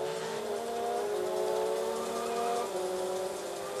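Race car engine in the Wii game GT Pro Series on the Green Field track drones steadily at high revs, a loud continuous whine with tire noise, no voices over it.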